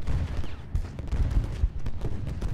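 Musket and cannon fire from a Civil War battle at Gettysburg in the strategy game Ultimate General, a dense, continuous rumble of distant volleys and booms rolling with no pauses.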